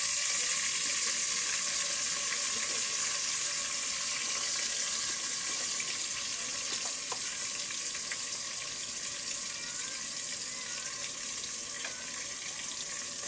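A ginger, garlic and onion paste fries with turmeric powder for a fish-head murighonto, giving a loud, steady, hissing sizzle that runs on and on with faint stirring clicks.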